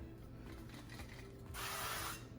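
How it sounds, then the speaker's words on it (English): Cooking spray hisses onto a warm pan for pancake batter, a short steady burst near the mic that rises in the second half over faint mechanical clicks. "We're gonna take our spray, go ahead and spray it onto the pan."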